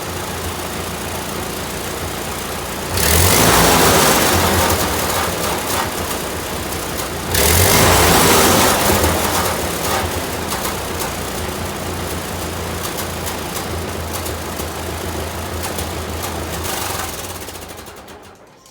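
A 1952 Ford 8N tractor engine running steadily and loud up close, a rough continuous chugging with two brief surges as it is revved, then settling back to a steady idle.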